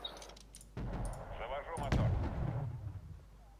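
Mortar fire in the war strategy game Wargame Red Dragon: loud booming artillery blasts starting abruptly, then a sustained rumbling barrage of explosions with a voice talking over it.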